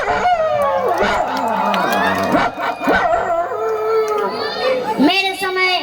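On a comedy stage show, a performer imitates a dog with loud howling, yelping calls that rise and fall in pitch, while a crowd with children's voices murmurs and calls out around it.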